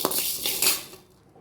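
Urad dal tipped into hot oil in a pan while tempering for a South Indian podi, a short burst of crackling clatter and metallic rattle that fades out after about a second.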